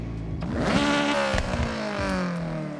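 A Honda CRX fitted with a race exhaust in the Horizon 6 racing game fires up and revs, a loud, close engine rising in pitch, easing back and settling into a raspy rev with occasional crackles.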